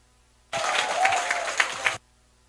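Steady applause from an audience at a Korean political party youth committee launch and appointment ceremony, a dense burst lasting about a second and a half that starts and stops abruptly, with no speech over it.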